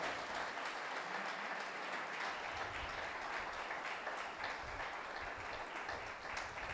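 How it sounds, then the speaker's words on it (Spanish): A church congregation applauds together, a broad, even wash of clapping that carries on steadily at a moderate distance. "¿Cuántos le dan un aplauso al Señor por eso?"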